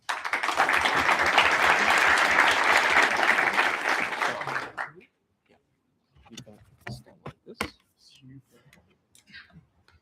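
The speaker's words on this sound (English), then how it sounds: "So clap it up for him, please." A meetup audience in Hamburg bursts into dense, loud applause for about five seconds, then it cuts off and scattered sounds and faint talk follow.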